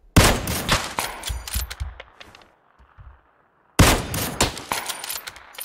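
Bursts of gunfire in a squad-based first-person shooter game: dense, loud rapid shots for about two seconds, a brief quiet gap with faint rumble, then another loud volley of shots.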